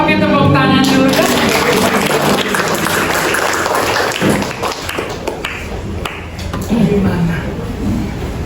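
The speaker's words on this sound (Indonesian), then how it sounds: "Oke, tepuk tangan dulu ya." Students in a school classroom clap together in a dense, loud burst of applause that fills the whole stretch, with voices mixed into the noise.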